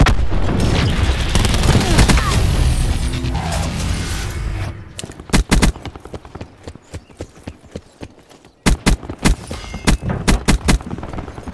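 Cluster grenade explosions in Call of Duty Black Ops 4: a loud rumbling blast fades out, then a rapid string of sharp bursts, a short pause, and another series of quick loud detonations.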